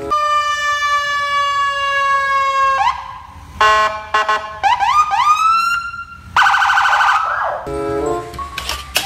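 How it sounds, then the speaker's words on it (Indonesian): An electronic siren wails loudly, a held tone giving way to rapid rising whoops and warbling yelps, close and continuous. "Mobil polisi,"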